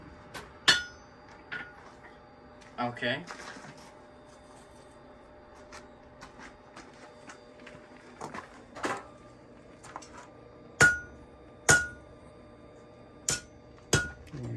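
Sharp metallic hammer strikes on hot metal ring out one at a time at irregular intervals in a blacksmith shop, some louder than others, with quiet shuffling between and a brief spoken word.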